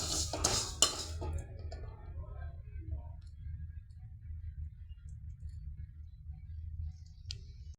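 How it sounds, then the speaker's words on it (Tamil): Roasted sesame seeds tipped from a pan into another vessel give a short, dry rattling pour in the first second, then a steady low hum with no talk. "எள்ளை வேற ஒரு பாத்திரத்தில் மாற்றிடலாங்க"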